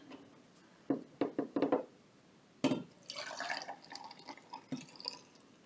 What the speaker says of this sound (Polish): Zalewam je wrzątkiem, zakręcam.